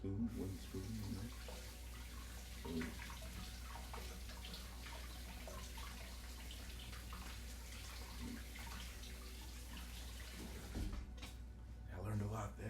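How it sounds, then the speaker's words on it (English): A dish is rinsed under a running kitchen tap, steady water flow with faint clinks, quiet and continuous, with some speech in the background. "I'm gonna wash this dish really quickly."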